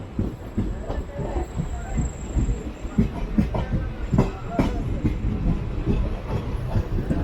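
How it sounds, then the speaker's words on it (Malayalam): A passenger train pulls into Angadippuram station on a trip through Kerala, with a continuous rolling rumble and rhythmic wheel clatter heard from inside the coach, steady and fairly close throughout. "അപ്പം അങ്ങനെ നമ്മൾ ഫൈനലി അങ്ങാടിപ്പുറം സ്റ്റേഷനിലേക്ക് കയറുകയാണ്."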